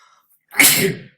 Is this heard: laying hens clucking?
no